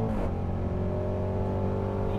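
A 2018 Range Rover Sport SVR engine pulls hard under full throttle, a loud steady drone of engine and road noise that holds unbroken through the short stretch with no one talking.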